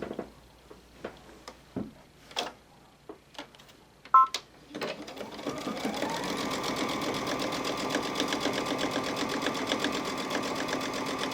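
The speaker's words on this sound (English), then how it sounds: "So now I'm going to top stitch this side." A sewing machine runs steadily as it top stitches a purse organizer with ribbon sewn in. A few scattered clicks and taps come first, then the motor starts and hums continuously and evenly up close, with no talking.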